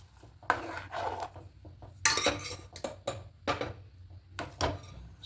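Half-boiled Gobindobhog rice stirred into a pressure cooker while making nolen gur payesh, with close, irregular metal-on-metal scrapes and clinks from the spoon against the pot, coming in uneven bursts with no talking.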